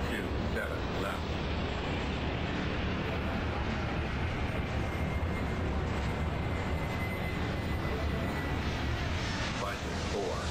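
Airplane taking off in the video game Airport Madness: a steady, loud engine roar and rushing noise that holds throughout, with no breaks.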